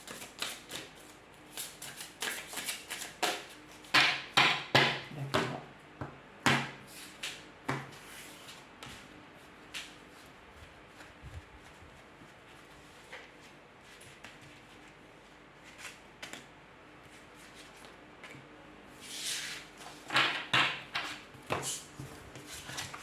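Tarot cards shuffled and drawn during a French-language reading, giving bursts of quick papery riffles and soft slaps, with quieter pauses between and another cluster of shuffling near the end.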